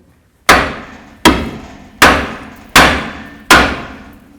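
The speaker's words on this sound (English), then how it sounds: "Now with a hammer, you can hit the knuckle part where the tie rod goes in." Five sharp metallic hammer blows strike the steel steering knuckle of a Jeep Cherokee where the tie rod fits, at an even, steady pace, each ringing briefly before the next hit.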